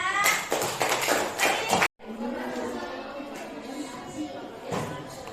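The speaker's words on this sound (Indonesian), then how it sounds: "tepuk tangan untuk temannya" Classroom applause for a classmate: a short burst of scattered claps and taps from students opens the clip, then a pause, then classroom chatter and talking continue.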